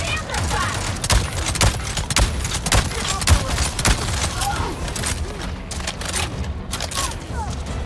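Sustained rapid gunfire in Avatar Frontiers of Pandora, dense repeated shots and booms blending into a continuous loud barrage during a fight against enemies.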